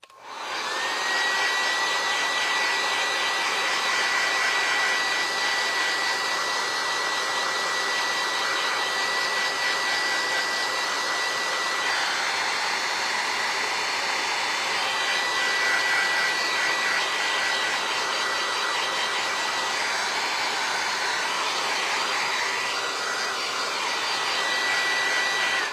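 A heat tool blows hot air over a craft casting for a winter church scene, a loud, continuous whirring blast with a high steady whine running alone throughout.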